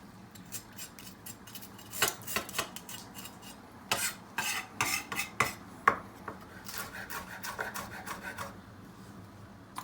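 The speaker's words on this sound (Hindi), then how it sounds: "एक मिर्च सब्ज़ जो है, उसको भी हम बारीक काट लेंगे, बीज उसके निकाल देंगे" A green chilli being finely chopped with a knife on a board: quick bursts of close, sharp cutting and scraping strokes, with pauses between runs.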